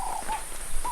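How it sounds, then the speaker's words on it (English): A persistent bird at a campsite gives short, repeated tonal calls over the steady hiss of falling rain during a storm. "And you can also hear a very persistent bird in the background."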